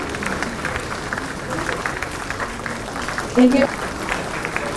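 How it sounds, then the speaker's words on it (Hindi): Applause from an audience at a government ceremony handing out appointment letters, a steady moderate clapping bed under an announcer's amplified voice, with a brief louder swell near the end. "तालियों में कमी ना हो"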